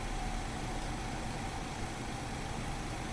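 IXEG 737 jet engines running in a flight simulator, a steady, even broadband roar with a low rumble that holds at constant level throughout, no voices.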